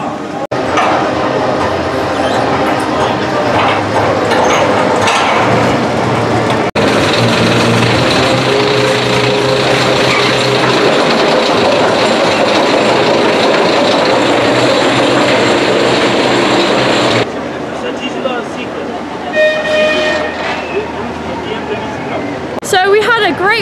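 Sustained rumbling roar from a ride on The Big One roller coaster at Blackpool Pleasure Beach, loud and continuous for about seventeen seconds with wind noise, then easing as the train slows, voices audible along the way.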